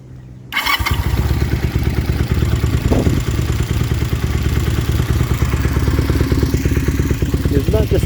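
A Kawasaki KZ440 motorcycle fitted with Mikuni carburetors idles at low RPM with a steady, even, close-up putter after a brief start, and one short clank comes partway through.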